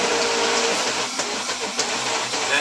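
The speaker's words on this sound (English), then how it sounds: "And then what I want you to do is just turn the Vitamix on slow." A Vitamix blender runs on a slow setting, churning raw cashews into butter with a steady motor hum and irregular thumps and bursts as the nuts knock around the container.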